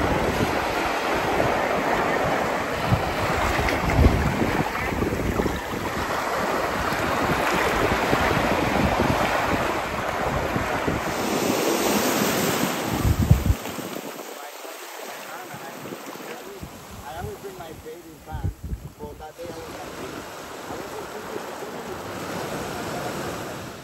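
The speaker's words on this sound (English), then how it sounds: "the water is a bit choppy for the snorkeling today" Choppy sea water sloshing and breaking near the shore, with steady wind buffeting the microphone throughout and a brief calmer lull midway.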